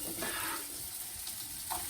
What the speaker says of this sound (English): I'm going to saute my bell pepper here a little bit. Love the sizzle.